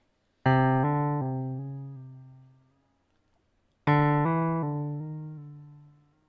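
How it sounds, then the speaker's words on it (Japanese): Two sustained synthesized tones from the Waves CR8 sampler, each struck and slowly fading with a shifting, rhythmic sequenced filter effect, separated by a short silence. "このようにシーケンスに合わせて音をエフェクトすることができるようになっています"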